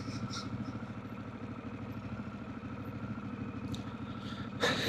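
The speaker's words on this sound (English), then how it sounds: "there's Mike out there on the tractor now." A tractor engine runs steadily across a lake bed, a continuous low rumble with a rhythmic chugging pulse at moderate distance, and a brief louder burst near the end.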